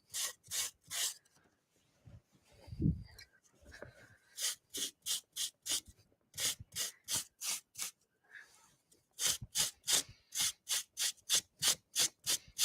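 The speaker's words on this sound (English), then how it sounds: "I'm just going to do just a little bit of distressing along the top and the back, and the bottom" Fabric edges are distressed by rubbing them with a file, giving quick bursts of close rasping strokes in rapid rhythmic runs with short pauses between sets.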